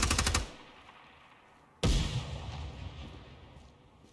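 Gunfire in the tactical shooter Ground Branch: a quick rattling automatic burst opens, then after a pause a single sharp loud shot rings out and echoes away into a fading tail.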